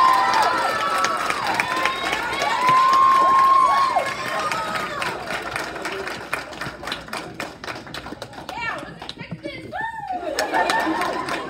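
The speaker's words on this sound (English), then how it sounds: "So let's give a big round of applause for our 2021 Offensive MVP" A girls soccer banquet crowd applauds and cheers for the 2021 offensive MVP. Loud, steady clapping mixes with whoops and excited voices, and the cheering grows choppier and more scattered toward the end.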